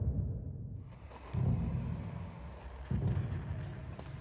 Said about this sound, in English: we suddenly hear explosions happening nearby